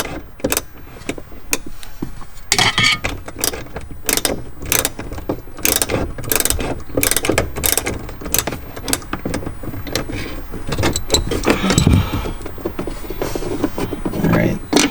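A ratchet clicks in quick repeated bursts while a screw is backed out inside a BMW M3's cabin, close and fairly loud, with brief pauses between runs of clicks.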